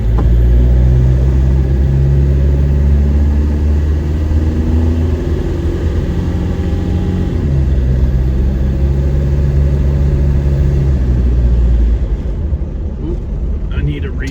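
An engine-swapped car with a TDI engine and a newly installed resonator rumbles steadily from inside the cabin on a test drive, a continuous low drone that shifts pitch briefly partway through.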